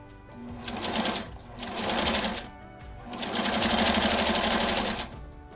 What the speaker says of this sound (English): Then I'm going to take an A9 and sew it to a background square.